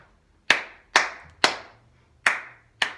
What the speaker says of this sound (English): So how about if we clap a rhythm?